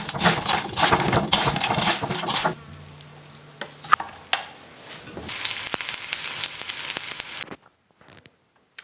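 Onions sizzle and crackle loudly in a pan, the frying fading for a stretch with a few clinks and a stir before flaring into bright, steady sizzling again, then cutting off.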